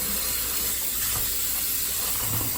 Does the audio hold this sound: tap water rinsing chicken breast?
yes